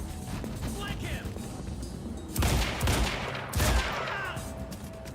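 Quantum Break gunfire during a hard-difficulty firefight sounds as two heavy, booming shots or blasts with broad rumbling tails, loud and close, over continuous crackling combat ambience.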